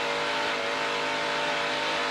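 A dirt race truck engine screams at high revs during a qualifying heat, loud and sustained throughout, with no talking.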